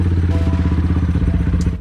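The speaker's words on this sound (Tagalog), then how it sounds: "tunog ng motor natin" Kawasaki Z200S motorcycle with a 51mm straight muffler idling loud and close, a steady deep throbbing exhaust pulse that drops off abruptly at the end.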